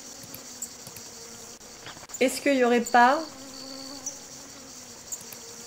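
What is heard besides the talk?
mosquitoes buzzing in the video game Forestia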